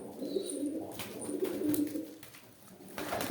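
Soft, low pigeon cooing rolls on nearby, repeated murmuring calls with faint rustling and a higher bird note in the background.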